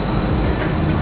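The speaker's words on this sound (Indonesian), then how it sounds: "Ada di dalam kereta Skytrain-nya untuk balik ke Terminal 2." Inside the Changi Airport Skytrain shuttling back toward Terminal 2 in Singapore, a steady low rumble and whir of the moving train car runs without a break, close and even, with no talk.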